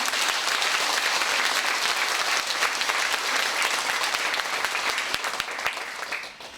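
Audience applause for a group of lay Buddhist practitioners at a temple gathering, a dense steady wash of clapping that holds strong throughout and thins slightly at the end.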